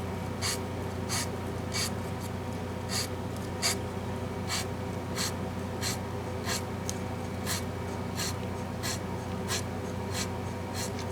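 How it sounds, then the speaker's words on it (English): Sandpaper of 320 grit, free cut, strip-sands paint on a Gibson SG guitar neck in quick rhythmic rasping strokes, close and steady over a low background hum, with no talk. "I strip sand with 320 free cut sandpaper."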